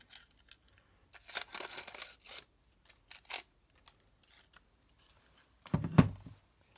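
Scissors cutting a Christmas tree shape out of card, a series of short crisp snips in irregular bursts, close by, ending with a louder thump near the end.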